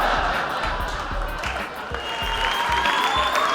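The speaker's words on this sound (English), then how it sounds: "Give him a big round of applause." A comedy club audience claps for a comedian in a full, steady round of applause with some cheering, loud and continuous throughout.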